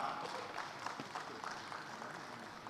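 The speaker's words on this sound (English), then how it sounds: "a round of applause for her" Scattered, fairly quiet clapping from a small conference audience, a patter of hand claps lasting a few seconds with no talk.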